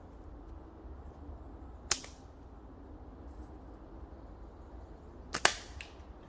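Outdoors in the woods, a slingshot fires twice, each a sharp snapping crack, the second a quick double snap, against a quiet low rumble of background.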